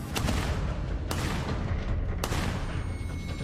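Gunshots fired at a white minivan ring out as three sharp, harsh bursts about a second apart, booming and distorted, with no voices.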